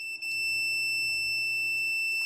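A continuity tester probing pins on a Commodore 64 motherboard holds a steady, high-pitched electronic tone for the whole stretch, clear and close, with only a brief dip near the start.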